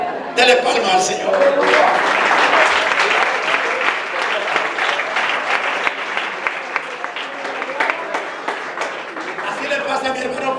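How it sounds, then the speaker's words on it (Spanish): A church congregation claps in lively applause that carries on for about ten seconds at a strong level, with a voice speaking over part of the clapping. "Dele palmas al Señor."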